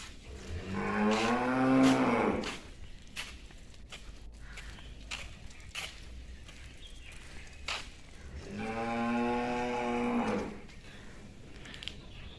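Cattle in a cowshed at a village farm moo twice in long, loud, drawn-out calls, with quiet shuffling and scattered knocks in between.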